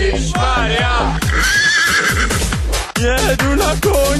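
Horse neighs and whinnies sound close and loud, repeated several times over a rhythmic beat, with people's voices mixed in at a school graduation ball.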